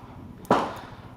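A single firework bang outside: one sharp report that trails off over about half a second, with no other sounds around it.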